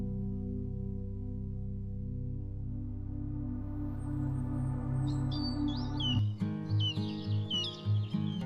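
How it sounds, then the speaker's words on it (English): Birds at a high-altitude lake give bright, high chirps and calls. They enter after a sustained low droning tone and repeat in quick bursts near the end, with no talking. "Yet migratory birds arrive each summer, drawn to a lake that exists at the edge of habitability."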